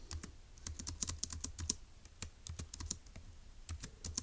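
Fingers tap out notes on a computer keyboard in quick, irregular bursts of crisp clicks with brief pauses, close and fairly quiet, with no talking.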